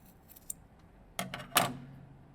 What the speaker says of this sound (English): the last thing you have to do is just kind of cut off the ends